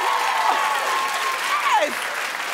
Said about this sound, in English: Clap if you sleep with the water, okay?